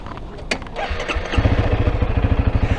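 A Honda CRF300 motorcycle engine cranks briefly and catches, then settles into a steady, loud, close-up thumping idle.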